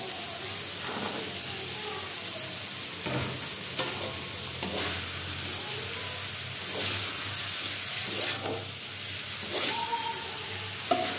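Potatoes stirred into sambal frying in a pan, a steady close sizzle and hiss broken by repeated scraping stirs, with a faint voice in the background.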